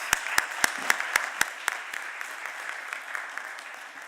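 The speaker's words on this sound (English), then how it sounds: "I want to give them another round of applause" Seminar audience at a university autonomous-vehicles event gives speakers and moderator another round of applause: a few sharp distinct claps at first, then a fading, thinning patter of applause.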